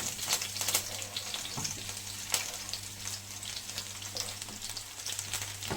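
Sliced onions and curry leaves sauté in hot oil for a chickpea curry, giving a continuous close crackling sizzle with occasional sharper pops, steady throughout with no voices.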